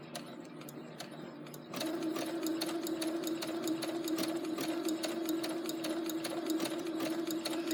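A digital sewing machine stitches a blind hem at a steady, fast mechanical patter, starting up after a brief quieter moment and running evenly at close range without speech.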